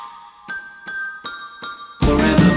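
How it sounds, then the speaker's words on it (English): Synthesized bells in a music mix ring as a bright repeating pattern of struck tones, about every 0.4 seconds, before a full dense mix bursts in near the end. "and I have some bells"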